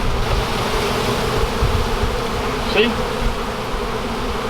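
Bees shaken off honeycomb cut from a yucca tree hive fill the air with a dense, continuous buzz, close and steady, while a voice briefly speaks over it.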